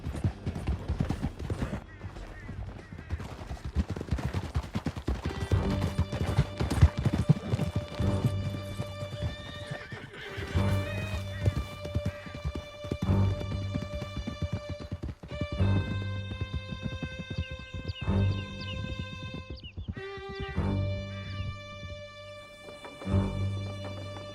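Horses gallop through a canyon in Red Dead Redemption 2, a fast clip-clop of hooves under sustained music and game effects, moderately loud, with brief shouted voices.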